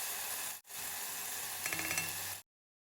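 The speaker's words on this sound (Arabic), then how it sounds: "وبنقلب شوية حتى يتسبك معجون الطماطم" Tomato paste sizzles in a hot pan while being stirred, a close steady frying hiss with scraping and clicking from the spoon, briefly cut off once and ending abruptly.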